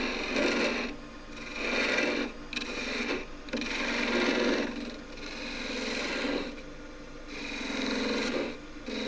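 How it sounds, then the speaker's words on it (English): A long-point skew chisel pares surplus wood off the end of a piece spinning on a lathe. It makes a close, rasping hiss in repeated strokes with short pauses between cuts. "I'll just get rid of that with the skew chisel, long point."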